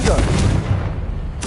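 A fire-spell blast from Hogwarts Legacy, the video game, lands as a short, loud, booming burst. A second impact follows near the end.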